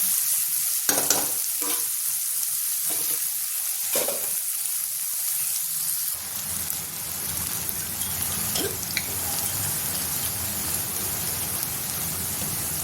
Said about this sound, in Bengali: পেঁয়াজটা ভেজে নেব।